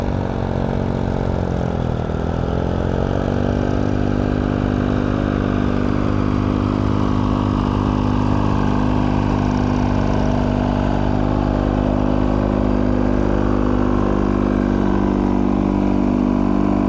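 Tractor pulling a single-furrow plow with one plow blade through a field at a plow day; a steady, close engine drone holds throughout with a slight pitch dip early on, and no voices.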